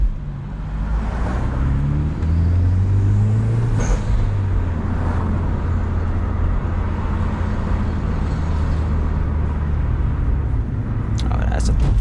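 A Hyundai Genesis Coupe 2.0T with its turbo engine drives steadily, giving a continuous low rumble and road noise from inside the cabin, with a faint rise and fall around the middle.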